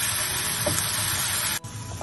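Onions fried light brown hiss and crackle in a frying pan as garlic and ginger are added, with a steady broadband sizzle and a brief drop in the noise near the end.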